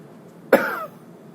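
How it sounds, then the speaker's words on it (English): One sharp, close cough during a medical hernia examination bursts out of near silence and fades quickly. "I can ask you to give a cough as well."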